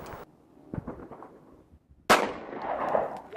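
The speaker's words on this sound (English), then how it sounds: "now we're going to use a 45 ACP" A single sharp, loud .45 ACP pistol shot, 230-grain jacketed hollow point fired into ballistic gelatin, cracks out after quieter handling noises and echoes with a rumbling decay.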